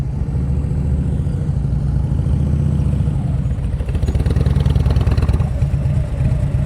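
A motorcycle engine runs steadily at low speed during slow-speed riding practice in Pennsylvania, a continuous low rumble with slight throttle changes, fairly close and without talk.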